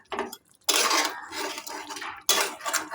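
A metal utensil stirs and scrapes lemon chicken in a cooking pan, giving a few clattering bursts with brief pauses between them, fairly soft and close.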